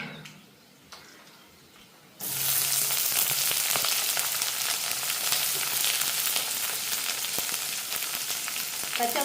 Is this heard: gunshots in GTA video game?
no